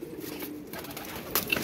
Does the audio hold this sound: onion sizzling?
no